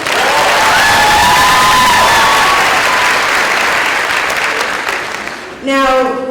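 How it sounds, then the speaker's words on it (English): Audience at a high school graduation ceremony bursts into loud, sustained applause mixed with cheering and shouts, a crowd filling the space before it briefly dips and a voice cuts in near the end. "Can I get another round of applause?"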